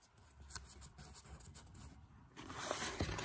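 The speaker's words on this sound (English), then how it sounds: "I'm going to tape that into place." A piece of felt being taped into place for a machine embroidery snap tab: close, quiet scratchy rustling and a brief tearing or pulling sound near the end, with no voices.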